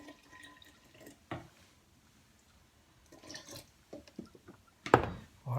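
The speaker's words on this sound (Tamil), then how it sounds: "கொஞ்சம் போது வாட்டர் சேர்த்துக்கிறேன்." Water is poured in short, faint splashes and drips while orange juice is being made, a few quiet bursts of liquid separated by near-silence.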